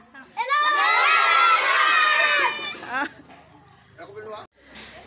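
A group of children at a Saraswati Puja celebration shout a greeting together in one loud, sustained unison cry lasting about two seconds, then fade into quieter scattered voices.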